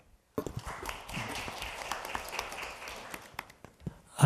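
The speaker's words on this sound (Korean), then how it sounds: "큰 박수로 맞아주십시오" Light, scattered applause from a modest audience at a National Assembly policy panel discussion, starting after a brief silence and continuing as uneven, fairly faint clapping with a few sharper individual claps near the end.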